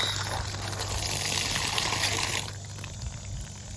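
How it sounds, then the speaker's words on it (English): Water running and gushing from an outdoor hose bib after the quick-turn valve is shut off, a steady rushing flow that drops off noticeably partway through. "this is normal for their water to still be coming out after you shut this off"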